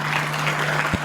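An audience at a Hindi poetry gathering (kavi sammelan) applauds in a brief, continuous burst of clapping, with a low hum running underneath.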